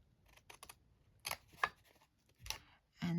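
Scissors snip into the edges of card paper while a Christmas card box is made. A few separate, sharp, close cuts are spaced irregularly, and a short voiced sound comes at the end.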